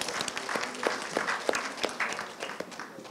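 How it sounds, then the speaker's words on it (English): Audience applause at a seminar, with a moderate, dense patter of clapping that stays steady throughout, heard at some distance without talk. "let us give Tan Sri Zul a big round of applause"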